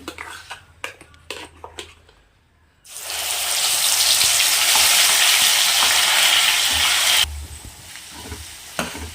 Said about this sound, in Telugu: ఇప్పుడు ఇందులో అల్లం వెల్లుల్లి పేస్ట్ వేసుకున్నామండి